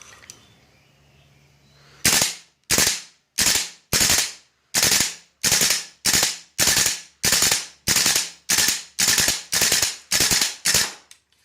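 GHK M4 gas airsoft rifle fired on full auto as a string of about fifteen short, sharp bursts of rapid cracks, each evenly spaced with a brief gap, close and loud after a quiet start.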